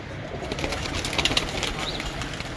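Pigeons on a rooftop in Kasur, with soft cooing and a few brief wing flaps over steady outdoor background noise, fairly close and moderately loud.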